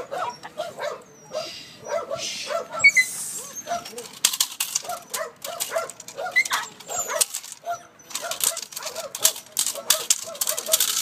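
Eight-week-old Malinois puppies yip, whimper and growl in rapid bursts while play-fighting close by, their high-pitched cries overlapping in busy play.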